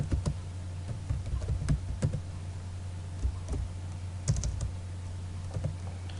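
Rapid keystrokes on a computer keyboard while CSS code is typed, an uneven run of close, crisp clicks over a steady low hum, with no voices.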